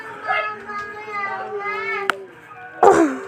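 A young child cries in wavering, high-pitched sobs close by, with a sharp click near the middle and a louder burst at the end.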